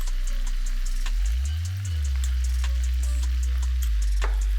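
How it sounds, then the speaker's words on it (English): Ginger and garlic paste hits hot oil in a pan for Peshawari chicken karahi, a loud, steady sizzle and crackle with scattered pops and a low thump as the paste goes in, continuing without talk. "Let's add in paste of ginger and garlic."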